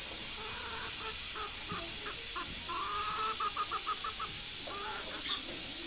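Several chickens cluck in short, repeated bursts while pecking at grass in a farmyard, near and fairly clear over a constant hissy background, with a few longer drawn-out calls mixed in.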